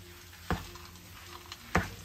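A spoon stirring makhandi halwa mixture with added nuts in a pan, giving two sharp scrapes against the metal over a low, faint sizzle.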